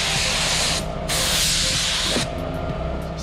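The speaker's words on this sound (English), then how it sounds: "Second step is adding this adhesive remover." Adhesive remover sprayed onto jet ski mats on a 17-year-old Waverunner: two close, loud hissing bursts of aerosol spray, each about a second long, with a quieter gap between them and no talking.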